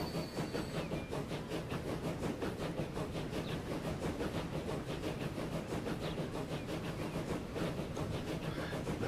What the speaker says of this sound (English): It'll take us a while to get there with this little train.